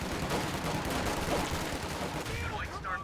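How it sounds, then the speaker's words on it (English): Grenade blasts and gunfire in the World War II strategy game Company of Heroes 2, a dense continuous battle din with rattling shots throughout, under a voice. "I'm throwing grenades on the mortar right there"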